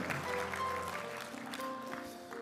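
A church congregation claps briefly while sustained keyboard chords ring out in the background.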